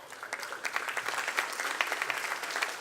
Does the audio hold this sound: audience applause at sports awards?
yes